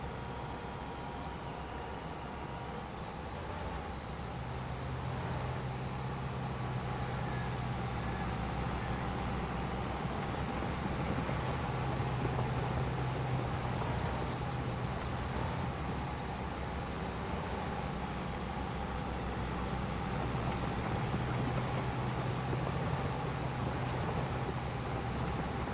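Tractor engine in Farming Simulator 22, a steady rumbling drone with broadband mechanical noise that rises slightly at times, continuous and heard without talk.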